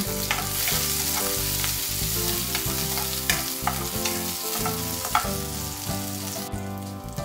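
Onion, garlic and ginger sauté and get stirred in a pan to start a salmon-head tinola, a dense continuous sizzle with scraping stirs, heard alongside steady background music and no speech.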